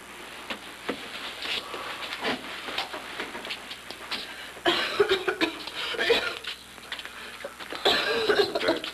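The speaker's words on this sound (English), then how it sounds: "That's a bad cough." Several rough coughs burst out amid a noisy room, with shuffling and faint background voices; the coughing comes in irregular clusters, louder toward the end.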